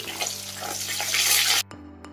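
Fish frying in oil makes a close, continuous hiss and crackle that rises slightly, then cuts off abruptly, leaving only a faint hum.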